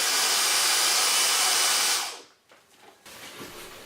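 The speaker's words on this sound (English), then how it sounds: "I'm drilling a recess for the start of the LED strip light" A power drill bores a recess in a control panel for an LED strip light, a loud steady whirring that runs for about two seconds before cutting off, leaving faint handling noises.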